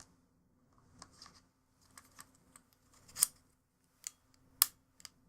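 Nintendo Switch Joy-Con controllers slide onto the console, producing a handful of small plastic scrapes and sharp clicks, with two crisp snaps standing out, close and quiet against near silence.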